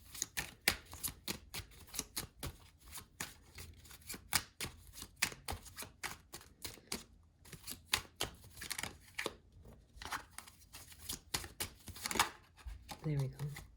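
Tarot cards being shuffled by hand, with many quick crisp riffles and slaps in an irregular rhythm, close and fairly quiet, with a brief low hum near the end.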